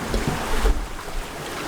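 Steady rushing wind and water noise from a sailboat moving fast in about 20 knots of wind near Dominica, a constant broadband roar with buffeting gusts through choppy water.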